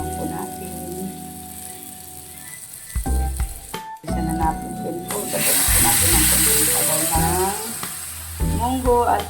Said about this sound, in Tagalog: Yan po, igisa na po natin.